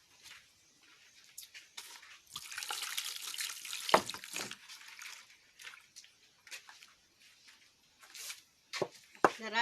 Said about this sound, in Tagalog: Pagkahuman anin niya, hugasan ni siya.